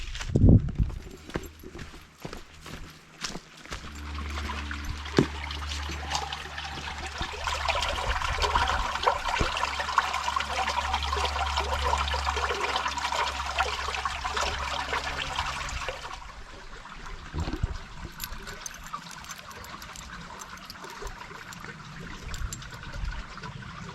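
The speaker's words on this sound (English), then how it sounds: "Is that water not Sally approved?" Steady broadband wash of running, trickling water close by on a park trail at Paris Mountain State Park, with scattered clicks and scuffs over it; the flow drops away near the end, leaving quieter rustling.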